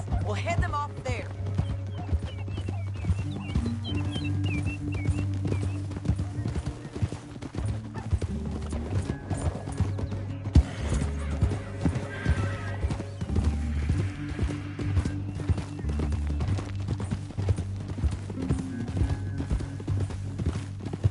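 Hooves gallop steadily in a video game, a fast continuous clip-clop running under a background music score, with an occasional neigh and spoken voices over the top.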